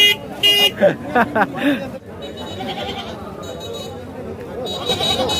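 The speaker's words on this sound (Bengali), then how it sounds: "এখানে হচ্ছে ছাগলের হাট" Goats bleat several times at a busy livestock market during Eid al-Adha, the calls loud and near at first, then crowd chatter and distant vehicle horns carry on underneath.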